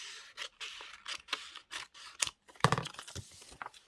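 Scissors trimming paper for an altered book, a run of short crisp snips and rustles close to the microphone, followed by a louder burst of paper handling.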